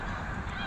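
Geese honking as they fly overhead outdoors, a continuous chorus of calls from several birds, fairly loud with no talk.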